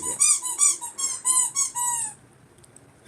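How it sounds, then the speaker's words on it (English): A squeaky toy squeezed in a rapid series of about seven high, whistling squeaks over two seconds, close and loud, then stopping into near silence. "there's my son with a squeaky toy"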